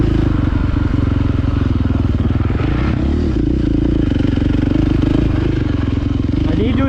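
A 2022 KTM 450 SX-F Factory Edition motocross bike rides a dirt track, its single-cylinder engine droning loud and close throughout with rising and falling revs and some clatter.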